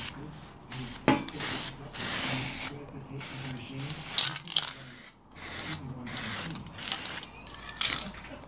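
An aerosol can of weld-through primer sprays in a string of short hissing bursts, close up, with brief pauses and a rattle between sprays.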